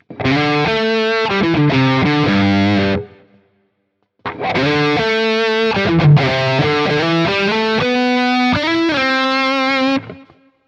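Overdriven electric guitar through a Quad Cortex Freeman preset without mid boost rings out two loud chord phrases separated by a brief pause, heavily distorted but slightly thinner in the mids, with no voices.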